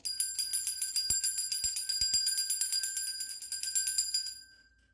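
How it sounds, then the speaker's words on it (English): A small hand bell rings in quick, even shakes during a spiritual reading, bright and close, with a few soft knocks underneath, then fades out near the end. "I'm going to clear the energy with my bell and then we'll get started."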